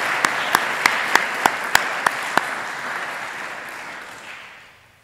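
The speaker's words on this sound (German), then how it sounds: "das hat einen Applaus verdient" A church congregation at a confirmation service in St. Maria applauds in a broad, steady wash of clapping, with a few sharper nearby claps standing out before it fades away.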